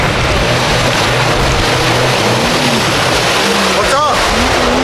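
A cheap jet ski, a fast wave runner, running on open water, its engine droning steadily under loud rushing spray and wind noise, close and continuous, with brief voices underneath.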